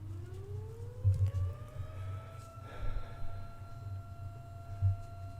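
A siren wails in the distance, its tone rising steadily and holding high, over a low engine-like hum with occasional thumps.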